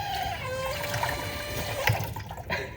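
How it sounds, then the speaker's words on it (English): Water runs from a tap while a thin high squeak whines and slides in pitch, with a couple of brief knocks. "Serious talk will be punctuated by like an insane"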